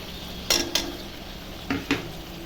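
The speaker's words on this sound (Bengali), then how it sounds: "মশলাটা এখন ভালো করে কষায় নেব।" Ground cumin, coriander and chili powder with chili, garlic and tomato paste fry in a pan, a low sizzle broken by two pairs of sharp metallic clinks as a spoon scrapes and stirs.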